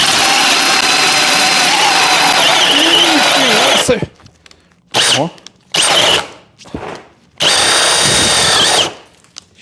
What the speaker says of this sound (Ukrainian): якщо вам потрібно просверлити ось тут таку довжину під е, розеточку